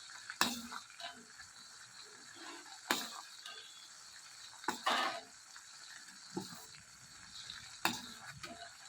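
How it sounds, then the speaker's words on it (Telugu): Ginger garlic paste fries in a pan for a chicken pickle, giving a soft, faint sizzle broken by several sharp scraping and clattering stirs at irregular intervals. "వేసుకుని ఈ అల్లం వెల్లుల్లి పేస్ట్ కూడా బాగా పచ్చివాసన పోయి గోల్డెన్ కలర్కి వచ్చేంత వరకు కూడా బాగా వేయించుకోవాలి."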